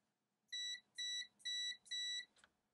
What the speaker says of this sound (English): if we touch the probes here,